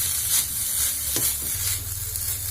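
Grated carrots fry in ghee, giving a steady close hiss and sizzle while a spoon scrapes and stirs through them at intervals.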